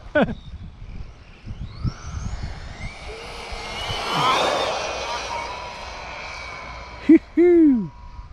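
Electric motor of an Arrma Infraction 1/8 4x4 3S BLX RC truck on a 26-tooth pinion, whining and rising to a loud, sustained high-pitched howl at throttle as the tires spin, then cutting off, with brief voice sounds.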